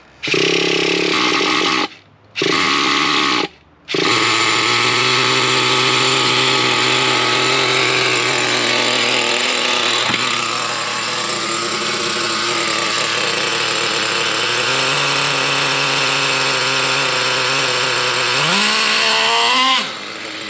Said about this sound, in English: So let's get this thing fired up and see if it will, if we can tune it now.